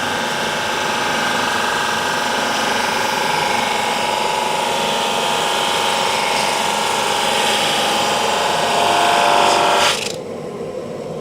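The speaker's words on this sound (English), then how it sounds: "This is a beautiful drum sander." A drum sander sands a board in a loud, steady mechanical roar with a broad hiss, continuous for about ten seconds before it suddenly drops to a lower hum.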